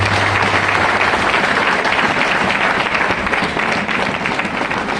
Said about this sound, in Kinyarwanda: Amashyi ku Uwiteka.